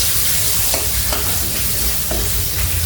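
Peanuts and other ingredients tipped into a hot pan for lemon rice set off a loud, dense sizzle, with a few sharp stirring scrapes breaking through the continuous frying hiss.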